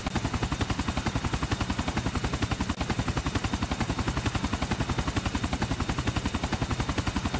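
A helicopter in Grand Theft Auto 4 on PS3: loud, steady rotor chop pulsing rapidly and evenly throughout, heard close with no talking.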